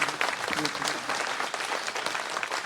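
An audience at a poetry gathering applauds to welcome a poet, giving a short burst of brisk clapping at moderate volume with some voices mixed in.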